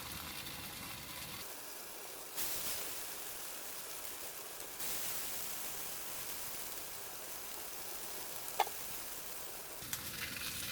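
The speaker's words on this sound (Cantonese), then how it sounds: "我哋而家開始煎豬扒，擺咗落去咧就唔好再反佢住" Pork chops frying in a wok over medium heat with a little oil, giving a soft, steady sizzling hiss that continues without a break and without any talk.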